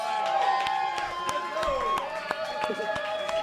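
Crowd at a live comedy event roars and cheers, a dense sustained wash of voices with scattered claps and shouts, steady and fairly loud throughout.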